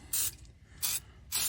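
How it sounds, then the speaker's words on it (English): Cooking spray hisses into a campfire oven pot in three short bursts, close and crisp, separated by brief pauses. "Take your cooking spray,"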